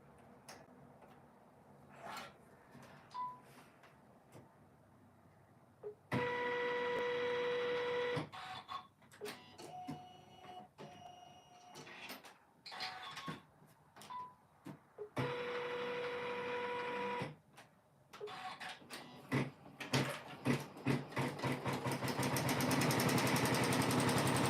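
A Janome M17 sewing machine stitches in the hoop, making repeated rapid mechanical buzzing runs separated by clicks, taps and short pauses, then ending in a steadier, louder whir.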